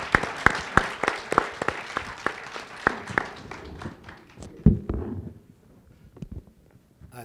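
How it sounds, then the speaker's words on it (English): A conference audience applauds panelists at an ecology and civic participation panel, a few minutes of clear, sharp individual claps close by at first that thin out and fade to scattered claps by the end. "let's applaud all the panelists"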